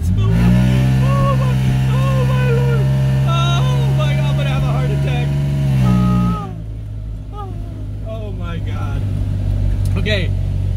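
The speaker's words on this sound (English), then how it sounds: "Flowmaster. Flowmaster. No resonators, nothing. It sounds so terrible." A car fitted with a custom Flowmaster exhaust and no resonators drones loud and close with a deep, raspy idle, then drops off abruptly partway through as people talk and laugh.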